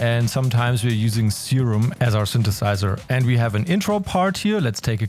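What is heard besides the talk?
No everyday noises stand out.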